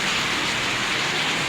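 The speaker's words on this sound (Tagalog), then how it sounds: "Ayun na, yung lakas ng ulan. Ang lakas ng ulan." Dense, steady rain hisses continuously, loud and close, with no voices and no breaks.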